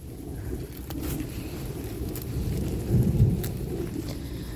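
Thunder from a severe thunderstorm rolling over the Kyiv region, a continuous low rumble outdoors by a vegetable garden, swelling to a louder peak near the end with steady rain-like hiss beneath.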